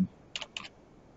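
A few quick keystrokes on a computer keyboard while entering a command in AutoCAD, two short bursts of clicks close to the microphone, with a quiet background and no speech.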